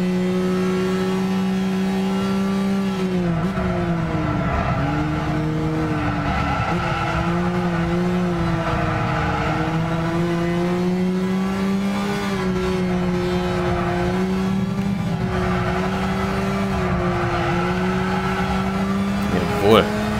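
Racing car engine in Gran Turismo 6 holding a steady, loud drone with shifting pitch through gear changes and tyre squeal, continuous throughout with no pauses.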